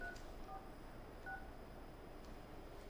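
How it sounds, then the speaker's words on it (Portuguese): Telephone keypad dialing tones, a few short electronic beeps in quick succession over a steady background hum, with no talking. "Discando aqui, vou botar no Viva Voz."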